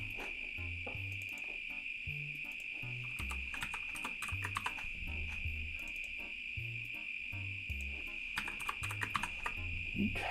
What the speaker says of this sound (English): It's just me typing in version 0 and /